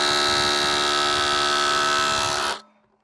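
An impact wrench spins a fitting off an old backhoe, a loud, close, steady high-pitched whir lasting about two and a half seconds before cutting off abruptly into quiet.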